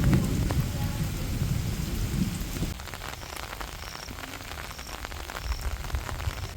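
Steady rain falling on a rainy day in a hometown in Pakistan, a dense hiss of drops with a low rumble in the first half that drops away midway, leaving lighter patter and occasional drips.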